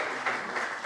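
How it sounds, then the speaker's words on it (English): Brief audience applause at a business townhall, a short burst of many hands clapping together, fairly distant and steady with no voices over it. "your job, audience, is to clap if Chico is doing a good job"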